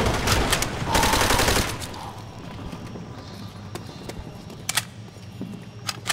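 Rapid gunfire in Call of Duty: World at War as barrels are shot in tunnels, a dense loud burst of shots in the opening second and a half, then quieter scattered cracks and rumble.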